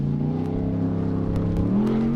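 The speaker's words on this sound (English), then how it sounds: "Bailey Cole has a very smooth run going. The car looks like it's working absolutely flawless." A two-seat solid-axle off-road race car built by Trent Fab runs at the 2019 King of the Hammers, its engine holding a loud, steady drone that climbs slightly in pitch near the end, with no voices.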